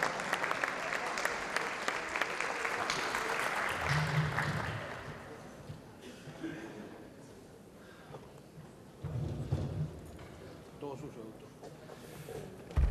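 Conference attendees give a sustained round of applause to welcome a speaker, a broad clapping wash that fades gradually as voices and a brief low rumble come through.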